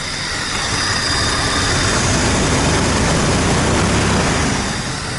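A 1999 Jeep Grand Cherokee engine with a shorted crank sensor, not run for a month, fires up and settles into a steady, loud, continuous running rumble with a broad roaring hiss, close by and holding even throughout.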